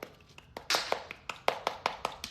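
Raw meat slapped repeatedly against a person's cheek, about a dozen sharp wet smacks in a quick, uneven rhythm, close and loud.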